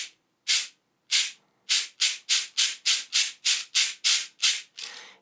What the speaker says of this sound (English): This is a serrated surface, and the beads, they can strike it like a concussion instrument, but mainly we're scraping them.